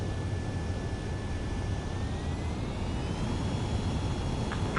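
A fixed-wing jet in Ace Combat 7 comes in to land on a runway, its engine roaring steadily and loudly throughout with a faint thin whine rising over it and no voices.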